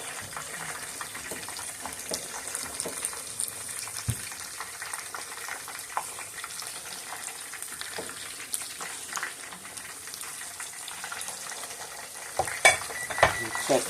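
Battered fish and shrimp fry in hot oil with a steady, dense sizzle and crackle, mixed with occasional stirring and scraping in the pan, close up, and a few sharper pops near the end.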